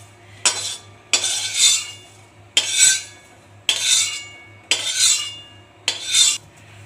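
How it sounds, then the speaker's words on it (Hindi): Spices stir-roasted in a pan over a high flame, with a spatula scraping across the metal in six distinct strokes at a steady pace, close and fairly loud over a low constant hum. "और इसे भी हाई फ्लेम पे लगातार चलाते हुए भूनेंगे।"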